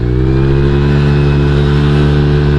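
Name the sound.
Honda Vario 150 scooter engine accelerating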